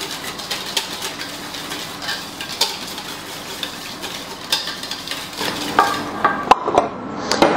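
Cream mixture with vanilla being whisked by hand for a Christmas yule log, a steady rapid scraping and swishing of the whisk against the bowl, with a few sharper clinks toward the end.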